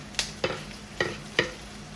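Onion, garlic and tomato sauté in a pan under a steady sizzle, with four distinct scraping stirs of a spoon at an unhurried rhythm, close and with no voices.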